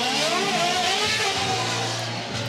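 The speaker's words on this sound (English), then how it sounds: "Not only the applause as a soundtrack, but also Formula One engines as well." Formula One car engines rev loudly at the Goodwood Festival of Speed, a dense, steady roar over continuous crowd applause that lasts through the whole short stretch.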